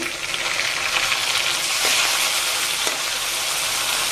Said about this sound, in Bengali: এই তেলে আমি ছেড়ে দেব শুটকিগুলো দিয়ে দিচ্ছি শুটকি